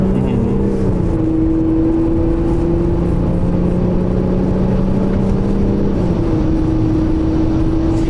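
Audi A6 C6 accelerating from inside the cabin, a steady engine drone with the gearbox pulling and the pitch rising then shifting, constant road noise underneath.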